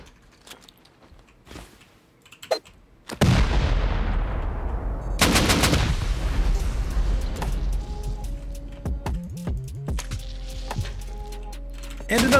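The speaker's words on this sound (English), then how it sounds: "That's a freaking turret." Heavy gunfire from a turret erupts during a raid on a sleeper base in a survival video game, loud sustained bursts and rapid shots dominating after a few quieter clicks, with a voice speaking over parts of it.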